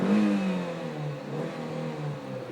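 A 2008 Hyundai S3 coupe engine revs loudly and close up, rising in pitch and then holding a steady, throaty drone, with no talking.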